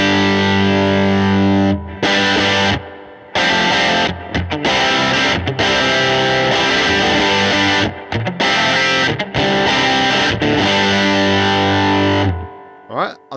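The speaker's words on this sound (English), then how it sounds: "I think this amp sounds great cranked up." A cranked amp model on a Fender Tone Master Pro drives a heavily distorted electric guitar, loud chords ringing and sustaining with brief choppy gaps between phrases, ending in a fading tail.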